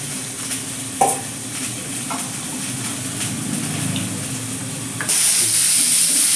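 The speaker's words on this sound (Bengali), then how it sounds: "আলু পটলটা হালকা লাল করে ভাজা হয়ে গেছে" Potatoes and pointed gourd fry in a pan until lightly browned, with a steady sizzle broken by a few clinks of stirring; the hiss grows louder near the end.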